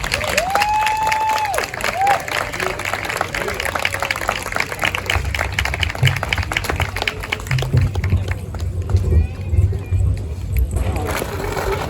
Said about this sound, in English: Let's give her a round of applause at this time.